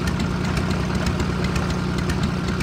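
A boat engine idles steadily in the adventure game Amerzone, a continuous low mechanical drone with a faint knocking rhythm, holding at a constant level throughout with no talk over it.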